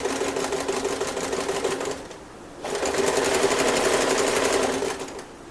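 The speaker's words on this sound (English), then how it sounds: "sew across the bottom, go back into the seam on the other side, and sew up the other side" Sewing machine stitching the seams of an apron made from a dress shirt, a steady close, loud motor whir with rapid needle chatter, pausing briefly midway before running again.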